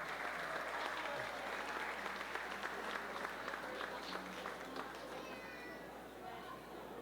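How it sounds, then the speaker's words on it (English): Audience applause at a costume contest as contestants leave the stage, a dense crowd of clapping that holds steady and then begins to fade, with faint voices underneath. "one round of applause as they make their way off stage."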